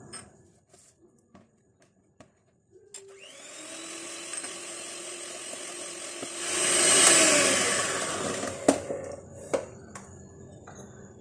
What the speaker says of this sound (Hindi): दूसरा अंडा डालेंगे और उसको बीट कर लेंगे।